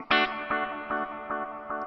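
An electric guitar played through a NuX Atlantic delay and reverb pedal sounds a loud strummed chord, then repeating delayed echoes fade over a long reverb tail, with no voices.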